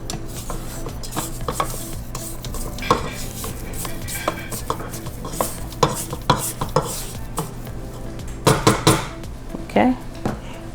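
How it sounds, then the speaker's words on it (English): A spatula scrapes around a mixing bowl of gluten- and dairy-free strawberry shortcake batter, giving repeated close scraping and knocking strokes with a few sharper clatters near the end, under occasional talk. "Periodically, you do want to make sure you scrape the bowl."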